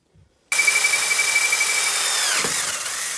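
A power drill whirs steadily at close range after a brief quiet start, its pitch dipping momentarily near the end as it bites into material, drilling during a Yamaha WR250R handlebar and throttle tube install.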